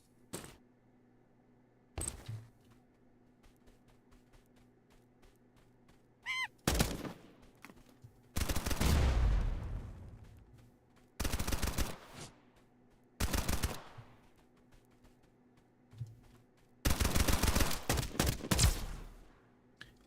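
Sniper rifle fire in a video game, heard as several loud, sharp bursts separated by long quiet gaps, each shot with a ringing tail, and one brief tonal chirp in between.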